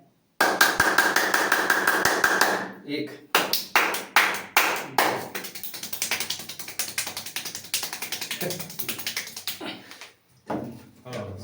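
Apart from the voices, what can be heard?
hands clapping, demonstrating types of claps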